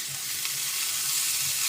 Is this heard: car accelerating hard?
no